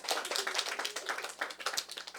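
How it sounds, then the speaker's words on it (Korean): An audience at a Bible lecture on Leviticus bursts into steady, dense hand clapping, brisk and evenly sustained throughout, with no talking over it. "박수 한번 쳐주세요"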